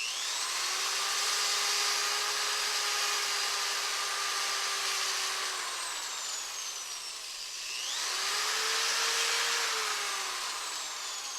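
A power drill drives 2.5-inch screws into pallet wood, a sustained whirring whine that runs long, pauses briefly, then starts up again for a second screw, close and steady.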